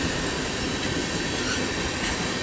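Canadian National 8806 freight train rolls past in Effingham, Illinois, a steady, fairly close rumble of wheels on rail with a broad wash of noise and no talk.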